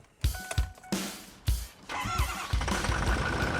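Failing Ford Powerstroke diesel truck engine cranking and catching, with several sharp bursts before settling into a rough, loud, uneven idle, close by.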